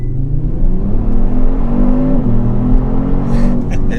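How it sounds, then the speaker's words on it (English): A 2022 Kia Stinger GT2, rear-wheel drive, launches hard under launch control, its engine note loud and close, climbing steadily through the revs in one sustained pull with no talk over it. "we're gonna start this off with launch control. So foot on the brake and floor of the gas"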